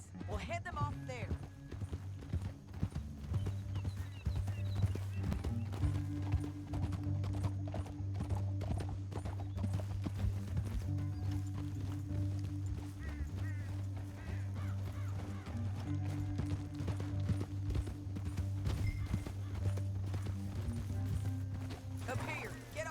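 Horses gallop in Red Dead Redemption 2, their hooves pounding in a fast, steady rhythm throughout, with an occasional whinny, under a low musical drone and game character speech.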